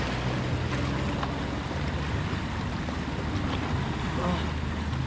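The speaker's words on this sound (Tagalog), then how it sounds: "Alon." Sea waves wash onto a beach at Real, Quezon, a continuous rough roar mixed with wind buffeting the microphone and faint voices.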